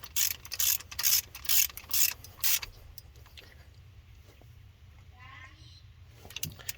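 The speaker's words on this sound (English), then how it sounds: "I'm breaking these loose with a longer extent ratchet" Ratchet wrench clicking in several short bursts as spark plugs on a 1986 Dodge Ramcharger are broken loose, close and fairly loud over a steady low engine-bay hum, followed by quieter mechanical rattles.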